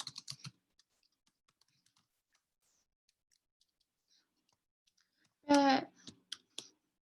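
Quiet, faint keyboard clicks tap sporadically on a computer keyboard, bracketed by brief bursts of louder typing at the start and end, with a short spoken word in between.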